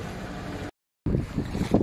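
Wind gusting across a sailboat under sail with the engine cut, a breathy rushing roar that drops out briefly and then returns with louder buffeting.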